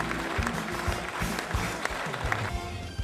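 An audience at an awards ceremony applauds nominees and the winner off stage, sustained broad clapping mixed with low music or crowd rumble underneath.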